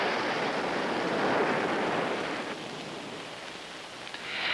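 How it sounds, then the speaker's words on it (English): Storm-driven ocean swell breaking on the shore at Cape Palliser, New Zealand, a steady broad roar of surf with wind rushing over it, unbroken and loud throughout. "Cape Palliser, New Zealand, on July 6th, the waves from this storm arrived."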